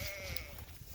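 Sheep and goats bleating outdoors, one sustained wavering call riding over a steady blend of animal noise, fairly loud and close throughout.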